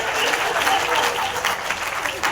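An audience at a Hindi humorous poetry and parody recital in Indore breaks into steady applause, many hands clapping densely and evenly throughout the brief stretch, close and fairly loud.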